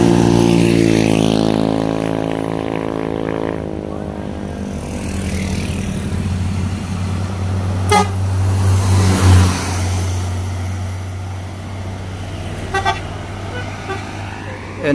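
An NPM intercity bus on the Padang–Medan route passing on the road: a loud multi-tone horn blares at first, then a deep engine drone with revving as it goes by, passing traffic and a voice speaking over it.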